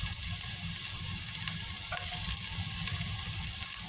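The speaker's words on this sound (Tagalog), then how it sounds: "And then fry. Stir fry until golden brown ulit." Garlic and ginger stir-frying in hot cooking oil for a Filipino dish, a steady dense sizzle with bright crackle held close and loud throughout, with no talking.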